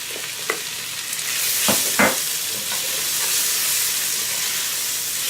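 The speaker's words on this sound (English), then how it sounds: "Gonna go ahead and add the garlic right now." Garlic sizzles in hot oil for a curry crab soup and is stirred, with a few spoon scrapes early before the hiss swells into a loud, continuous frying roar close by.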